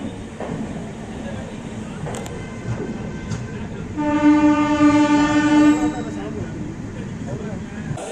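An Amrit Bharat Express train runs steadily on its inaugural journey, a constant rolling rumble with a long, loud horn blast sounding midway before the rumble continues on its own.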